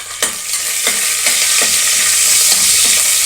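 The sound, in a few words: green chillies frying in oil, ghee and spices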